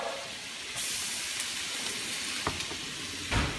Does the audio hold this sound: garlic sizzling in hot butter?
yes